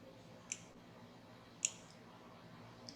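A computer mouse clicks crisply twice about a second apart, small and close against a quiet background hum.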